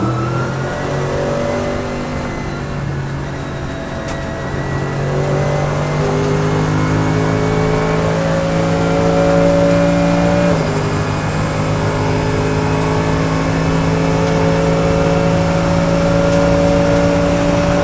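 A Mercedes-AMG GT3 race car engine roars loudly and steadily from on board at Portimão, revving up through the gears with a sharp shift partway through.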